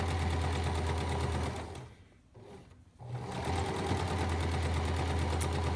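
A sewing machine runs steadily while stitching pintucks into a fabric panel, a close, even mechanical whir that pauses briefly in the middle before resuming at the same pace.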